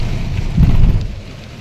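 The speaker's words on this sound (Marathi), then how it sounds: "बघ केवढा पाऊस आलेला आहे" Heavy rain pours in a steady broadband rush at a temple in Ozar, swelling louder midway with a low rumble, with no voices present.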